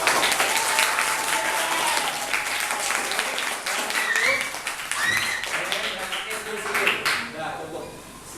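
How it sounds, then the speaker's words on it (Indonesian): Classroom audience clapping for group 1 after their presentation during a teaching practice session, a dense burst of applause that stays even and close for the whole stretch. A few voices call out over it. "mari kita aplaus buat kelompok 1"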